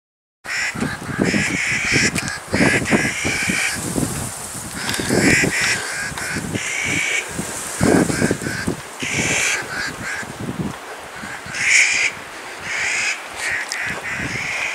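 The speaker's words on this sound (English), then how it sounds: "What a weird bird." A crow caws repeatedly along a mountain trail near a landslide site north of West Yellowstone, Montana, loud harsh calls in irregular bursts over steady outdoor wind and ambient noise.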